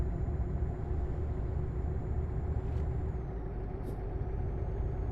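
A heavy truck engine in Euro Truck Simulator 2 drones steadily and loudly at about 78 km/h, a constant low rumble with a faint whine, as if cruising along a road.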